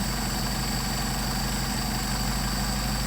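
A Mercedes 190SL engine with twin Solex 44PHH carburetors idles steadily, a low, even mechanical rumble with a faint high whine that holds at a constant level throughout with no voices.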